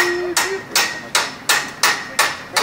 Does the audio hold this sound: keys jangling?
no